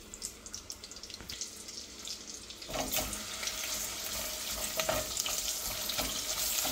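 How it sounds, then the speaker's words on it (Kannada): Onions added to a hot pan for a Hyderabadi veg biryani set off a loud, hissing fry after a quieter start, a continuous sizzle with occasional crackles and stirring clinks. "ಇವಾಗ ಈರುಳ್ಳಿ ಹಾಕ್ತಾ ಇದ್ದೀನಿ."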